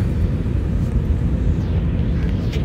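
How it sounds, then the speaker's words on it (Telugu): Steady low engine rumble fills a passenger airliner cabin as the plane on a Delhi to Hyderabad flight is pushed slowly backward along the ground toward the runway, a constant drone with no talk. "చిన్నగా ఫ్లైట్ అయితే బ్యాక్వర్డ్ మూవ్ అయిపోతుంది"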